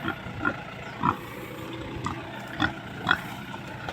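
Several short pig grunts and oinks at irregular intervals over a dull rumbling background, fairly close.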